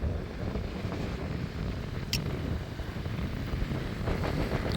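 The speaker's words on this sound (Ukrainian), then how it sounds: "Вітер такий же самий боковий." A side crosswind buffets the rider on an ASKMY U15 MAX electric scooter, a continuous low roaring rumble throughout with no voices.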